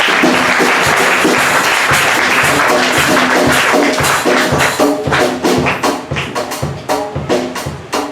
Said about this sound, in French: Si vous m'avez compris, vous acclamez le Seigneur de votre position.